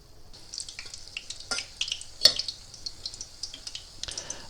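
Tunisian yoyo doughnuts frying in hot oil, a continuous bright sizzle with crackling pops and occasional clinks of a utensil against the pan, close and steady without talk.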